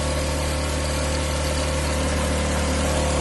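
Steady mechanical drone of an SR305 three-piston ceramic spray pump driven by a 3 hp motor, running continuously at close range, with a constant low hum and no other sounds.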